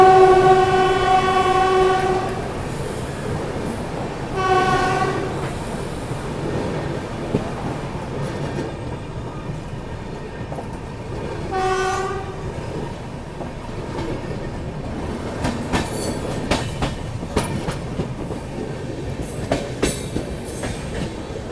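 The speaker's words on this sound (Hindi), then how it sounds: "चलिए फ़िलहाल हमारी गाड़ी स्किप कर रही है बारसोई जंक्शन रेलवे स्टेशन को।" Dibrugarh Rajdhani Express passenger train running through Barsoi Junction without stopping, heard from onboard: wheels clatter over rail joints continuously while the horn sounds in several long blasts, then a rapid rattle as the train passes the station.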